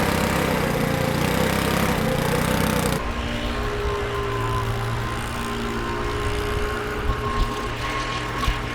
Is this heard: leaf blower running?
yes